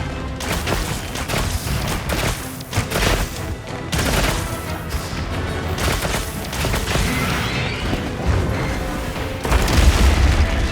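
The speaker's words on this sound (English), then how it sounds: "Crystal exploded." A crystal exploding during a Monster Hunter fight against Guardian Dushagama and Guardian Rathalos, heavy booms and crackling bursts layered over dense, loud game combat noise that continues throughout.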